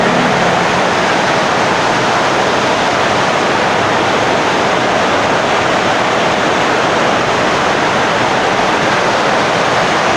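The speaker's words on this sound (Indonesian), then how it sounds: "Gede juga hujannya." Heavy rain pours in a steady, loud, unbroken roar of broadband hiss with no pauses, filling the space with no voices over it.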